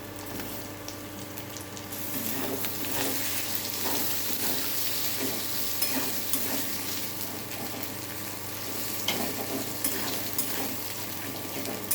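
Chopped tomatoes fry and get stirred for egg curry, a constant close sizzle with bubbling and repeated spatula scrapes, quieter at first, then fuller.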